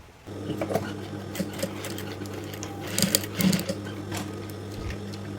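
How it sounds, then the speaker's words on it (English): A sewing machine stitching fabric for a headband, close up: a steady mechanical hum with a rapid, even needle rhythm and a few louder clacks, stopping abruptly near the end. "I'm going to sew here 1/2 inch"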